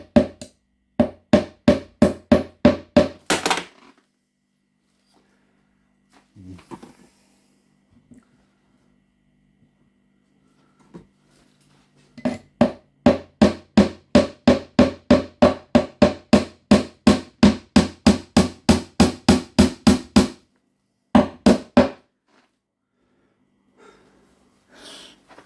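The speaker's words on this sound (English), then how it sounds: "So I'm just going to nail this ledge onto the inside." Small panel pin nails hammered into a wooden ledge inside an incubator build: close, loud rapid bursts of sharp taps, a quick run, a pause with faint handling, then a long steady run of hammer blows and a short final burst.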